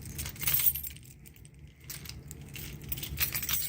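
A key ring jangles and clinks in someone's hand, close and fairly soft, with rattling bursts continuing throughout and no talking.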